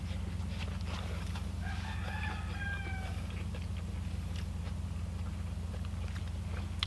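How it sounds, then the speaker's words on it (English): A rooster crows once at a moderate distance over a constant low mechanical hum, with a few faint clucks and scuffs around it. "Sorry about the roosters in the background"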